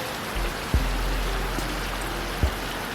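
Heavy rain comes down steadily on the North Coast of New South Wales, a dense continuous hiss with a low rumble and a few sharp drip or splash knocks, and no talking.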